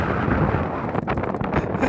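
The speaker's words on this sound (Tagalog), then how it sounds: "Malakas na yung hangin." Strong wind blows over the sea around a small fishing boat, a loud, continuous roaring buffet against the microphone with gusty surges throughout.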